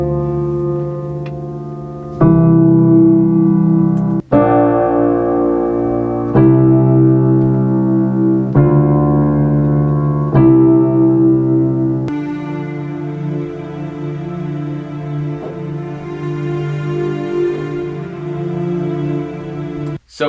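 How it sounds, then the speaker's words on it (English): Sampled cinematic piano from the Keyscape library playing sustained chords, loud and close, with rich low harmonics and a brighter texture joining in the second half, no talk. "My favorite piano to go to is the Keyscape cinematic piano."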